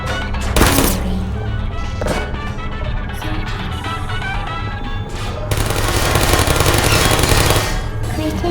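Turret gunfire in the Portal video game: loud rapid bursts of automatic shots, one early and a sustained volley later, with mechanical game sounds between.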